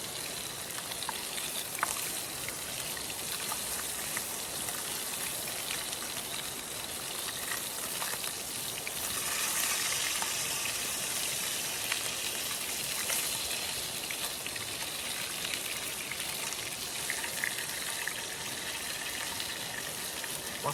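Bacon sizzling and spitting steadily in a pan over a firebox stove outdoors, a constant dense crackle at close range with occasional louder pops.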